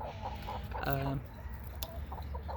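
Backyard chickens cluck softly nearby in short, scattered bursts, with one louder drawn-out call, as a person talks quietly in the background.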